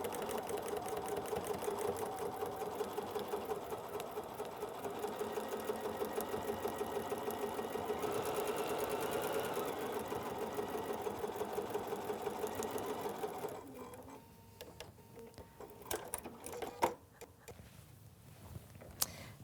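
A sewing machine runs continuously as it stitches fabric with a quarter-inch seam for foundation paper piecing, a fast, even whirring hum that stops after about thirteen seconds, followed by quiet handling clicks and rustles.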